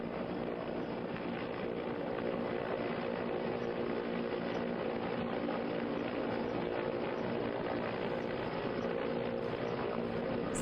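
Indian Air Force rescue helicopter hovering close by during a rope rescue, its rotor and engine giving a loud, steady, unbroken roar throughout.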